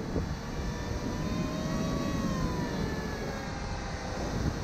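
A ROVA selfie drone with brushless motors flies high overhead, its steady whirring buzz of rotors sounding continuous and moderately loud with shifting pitch.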